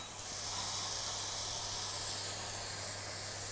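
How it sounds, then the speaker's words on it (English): Garlic sizzling in hot plant-based vegan butter in a pan, a steady, close, continuous hiss and crackle with a low hum underneath, no talking. "I'm actually gonna put the garlic in the butter."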